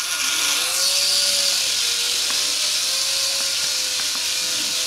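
A single-rotor RC mini helicopter flies nearby with a steady, high-pitched rotor and motor whine over a broad airy hiss, its pitch wavering slightly as it turns and trims.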